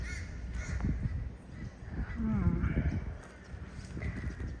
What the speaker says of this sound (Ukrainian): Багато ворон.